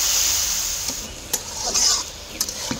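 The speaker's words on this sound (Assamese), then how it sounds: "আদা, জালুক আৰু লগতে পিঁয়াজ একেলগে তেলত ভাজি ল'লোঁ।" Ginger, black pepper and onion frying in hot oil in a hotel kitchen in Golaghat, Assam, a steady close sizzle broken by a few sharp scrapes and clinks of a utensil stirring the pan.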